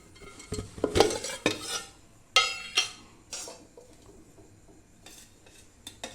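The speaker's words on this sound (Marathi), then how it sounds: "रवा हा तुपामध्ये छान लाल रंग येऊपर्यंत भाजून घेते" Semolina roasts in ghee over low heat while a metal spoon scrapes and clinks against the pan in irregular bursts, with only a faint sizzle between the strokes.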